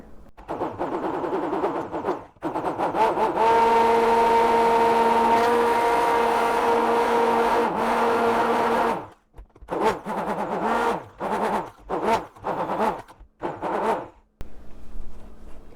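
Electric mixer whipping homemade hair conditioner as it thickens from liquid, a steady loud whirring drone for several seconds that then breaks into short repeated bursts of motor whine, close up with no talk.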